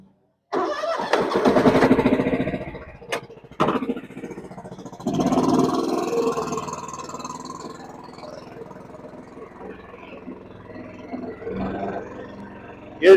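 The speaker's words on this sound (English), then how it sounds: "I got 3 blades on this mower, 56-inch deck." Close by, the engine of a riding lawn mower with three blades and a 56-inch deck cranks and catches, surges, dips and catches again, then runs at an uneven low rumble, with a few sharp knocks and a voice in places.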